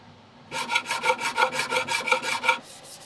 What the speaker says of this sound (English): That's sanding the top and knocking in some frets.